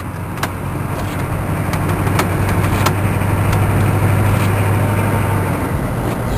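A K5 Blazer's diesel truck engine runs at slow speed with a steady low drone and a rattling dashboard vibration, continuous and fairly loud throughout, with sharp intermittent clicks and no talk.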